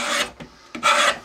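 A chisel scraping glued veneer off the wooden cabinet of a Bush VHF 41 radio: two close, rasping scrapes with a short faint scratch between them.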